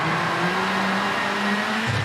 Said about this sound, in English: Oh, but that's a much better donut.